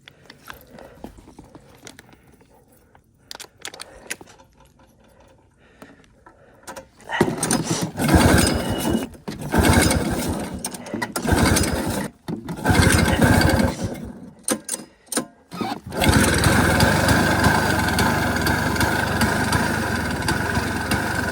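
A 1970s Yamaha snowmobile engine, recently freed of ice and oil-soaked, runs with a rough, sputtering two-stroke buzz that surges and cuts out before settling into a loud, steady roar close by.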